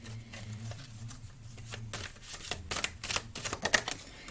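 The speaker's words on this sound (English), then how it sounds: "In between each, I do shuffle these and split them just to give my voice a break." A deck of oracle cards being shuffled and split by hand, a run of papery riffling bursts that grows denser and louder toward the end, heard alone and fairly close.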